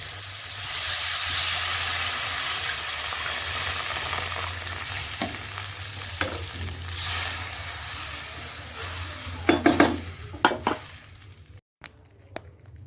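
Water poured into a hot cooking pan hisses and sizzles loudly for several seconds, then fades into a few close scrapes and clatters of stirring before the pan goes quiet.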